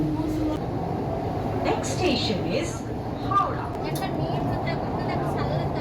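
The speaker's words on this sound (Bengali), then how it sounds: "এখন আমরা গঙ্গার তিরিশ মিটার নিচ দিয়ে যাব" A Kolkata underwater metro train runs thirty metres beneath the Ganga, giving a steady, muffled rumble with faint rattles and squeals inside the carriage. Passengers talk over the noise.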